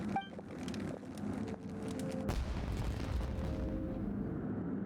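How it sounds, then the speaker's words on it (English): Fireworks going off in Genshin Impact, a few sharp cracks followed by a heavy booming blast that rumbles on into a fading roar, loud and close, with no talk. "It sounded like fireworks."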